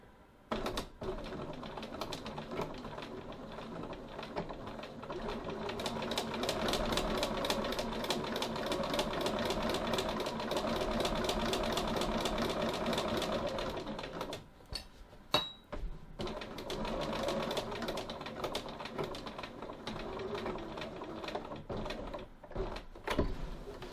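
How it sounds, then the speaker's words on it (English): A sewing machine runs steadily, stitching down the two sides of a fabric pocket, with a long continuous whirring run that pauses briefly and then resumes, close and clear with no talk. "but for that I'm just going to stitch the two sides, not down the bottom"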